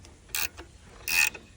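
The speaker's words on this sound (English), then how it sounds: "I'm just tightening up the alternator and getting it back in place." Ratchet wrench tightening the alternator on a 2016 Hyundai Accent, two short bursts of rapid clicking close by, with a faint tap between.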